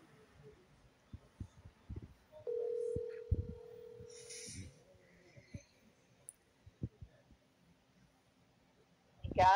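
A cellphone sounds a single steady dialing tone for about two seconds while calling back, set among soft scattered clicks and taps, with quiet surroundings before and after.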